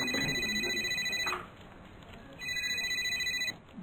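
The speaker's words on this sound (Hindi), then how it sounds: "वो चोर तब उस आदमी को फोन लगाता है।" A cartoon telephone rings as a call is placed: two bright electronic ring bursts separated by a short pause, fairly quiet against faint background sound.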